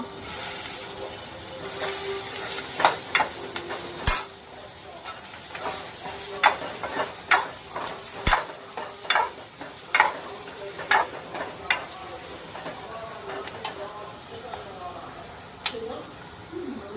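Brinjal and raw mango fry in a pan with a soft steady sizzle, punctuated by repeated sharp scraping clicks of a spatula stirring at a regular pace.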